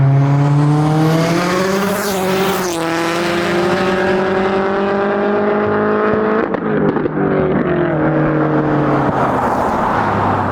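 Turbocharged Ford Focus ST with a big turbo, loud and close, its engine droning with strong harmonics that rise and fall as it accelerates and shifts, with a brief tire squeal and road noise and no talking.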